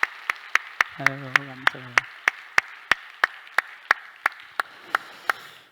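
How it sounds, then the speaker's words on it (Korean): A church congregation claps in steady, evenly spaced unison beats to encourage high school seniors after their college entrance exam, the sharp claps close and even throughout, with a brief spoken voice and a short sung phrase partway through. "우리 박수로 한번 격려하겠습니다."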